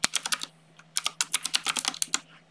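A password being typed on a computer keyboard: crisp, close key clicks in two quick bursts separated by a short pause, loud and distinct over a faint steady electrical hum, no talking.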